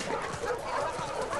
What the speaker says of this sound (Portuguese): E aí, Scarlett, Ares, esse cachorro tem nome. Tá com sede?